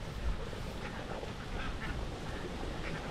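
A large flock of more than 2,000 ducks is herded outdoors, giving dense, continuous quacking and a steady broadband noise that stays constant throughout.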